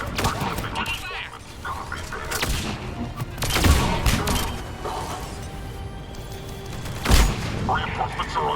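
Gunfire during a battle in the video game Mass Effect 3: bursts of shots and heavy booms over a constant din of combat, with louder blasts near 3.7 and 7.2 seconds and voices speaking through the fighting.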